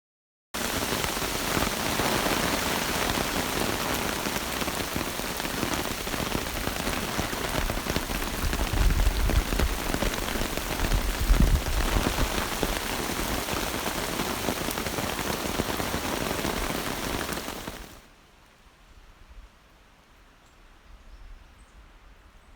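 Steady rain pattering on leaves and ground along the Mountains to Sea Trail near Mt Mitchell in the North Carolina mountains, a dense, loud, continuous hiss that suddenly drops to a quiet, sparse drip near the end.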